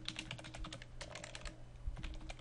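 Fast, steady typing on a computer keyboard as a sheet title is entered in mind-mapping software, dense close keystrokes running continuously without pause.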